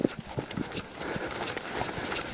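Hooves of a horse loping through a reining pattern in an arena, a steady rhythmic clip-clop of repeated soft thuds, fairly close and moderately loud, with no talking over it.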